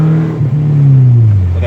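Engine intake roar of a 2017 Chevrolet Camaro fitted with a glass pack exhaust, a loud low droning tone rising and falling steadily as the car drives, heard from inside the cabin.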